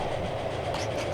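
A passing train in the game Transport Fever 2, a steady loud rumble of rolling rail cars with faint rhythmic clatter over a brief moment, no talking.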